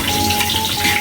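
Garlic and onion sizzle in a pan where ginger is already frying, a close, steady crackling hiss that fills the whole moment without a pause.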